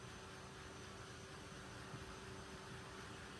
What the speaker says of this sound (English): I'm going to take this little dryer,